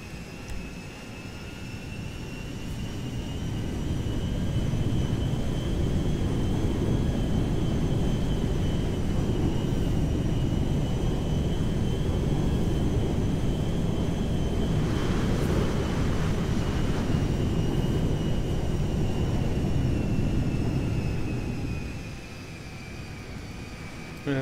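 A fixed-wing airplane taxis toward the runway in GTA5, its steady engine drone and high turbine whine holding loud and close, swelling at the start and dropping off near the end, with no talk.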